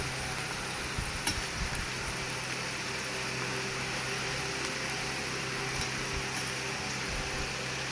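Curry leaves and green chillies fry in hot oil with a steady, even sizzle and a few faint stirring clicks. The sound carries on without pause and no one speaks.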